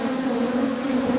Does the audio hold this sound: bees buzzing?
yes